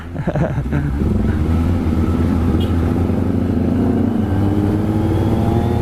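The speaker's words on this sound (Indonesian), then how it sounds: "Ya beginilah suaranya ngaungannya ZX25R." A Kawasaki ZX25R motorcycle fitted with a Prospeed exhaust revs hard and holds a loud, steady high-rpm engine howl up close, opening with a few sharp blips before settling into a sustained roar.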